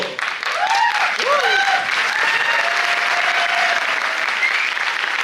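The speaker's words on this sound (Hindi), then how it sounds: "जो पी के आए हैं वो लोग ताली बजा रहे हैं।" An audience at a product training session claps loudly and continuously for about five seconds, with a voice speaking over the applause.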